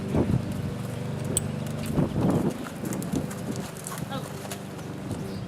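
Horses shift about at a gate, their hooves clip-clopping in a loose, irregular rhythm at moderate distance while a person talks over them.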